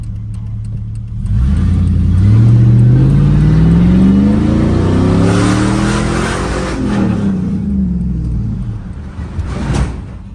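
A race-built muscle truck's engine revs hard as it pulls away, rising in pitch through the gears. The loud, close roar swells, then eases off, and a final short rev sounds near the end. Nobody talks.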